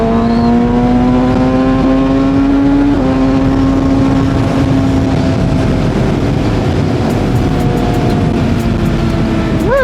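A Kawasaki ZX6R ride on an expressway in the Philippines: a loud, steady engine drone with strong wind rush, its pitch holding, dipping briefly, then rising again near the end.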